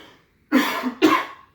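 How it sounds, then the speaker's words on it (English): Two firm coughs on request during a medical head-to-toe assessment, in quick succession, close and clear, with a short pause before the first. "So I'm going to also have you cough."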